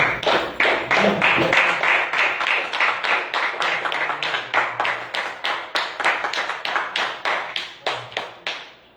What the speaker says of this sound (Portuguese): Deem uma salva de palmas.